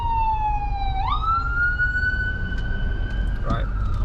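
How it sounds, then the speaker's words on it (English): A siren wails with a rising pitch sweep, then holds a steady high tone as the vehicle passes nearby over road and traffic rumble. "you can see the ambulance right now"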